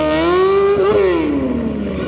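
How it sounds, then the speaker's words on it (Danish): A motorcycle engine revs hard at a motor festival in Struer, its tone climbing and then sliding down over two seconds, loud and close with no talk. "Så tilsætter vi ordentligt på motorcyklen."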